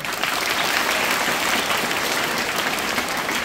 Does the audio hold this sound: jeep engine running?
no